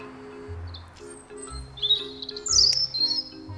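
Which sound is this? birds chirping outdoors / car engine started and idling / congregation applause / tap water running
birds chirping outdoors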